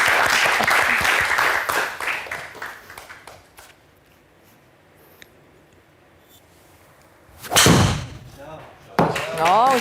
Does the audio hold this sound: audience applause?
yes